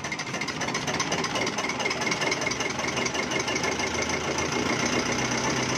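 A Hyundai Accent diesel car engine idles slowly with a steady, rapid knocking clatter that stays constant and fairly close throughout, with no voices over it.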